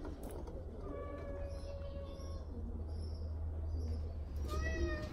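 A cat meows in a barn, several short tonal cries rising over steady low rumble and background noise, with a brief voice-like sound near the start.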